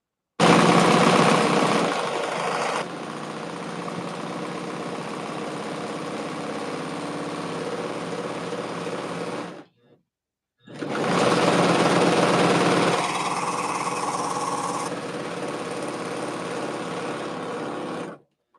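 A serger stitches two skirt pieces together in two long bursts of rapid mechanical whirring, close and loud, separated by a brief pause.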